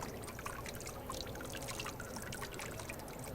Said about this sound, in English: To make it with a mold, you just dip the mold into the vat and shake it.